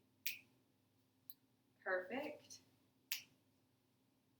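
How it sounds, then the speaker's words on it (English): Three sharp finger snaps made behind a patient during a head-to-toe hearing check, well spaced and fairly close, with a brief spoken word in between. "So I'm just going to snap my fingers and you just tell me."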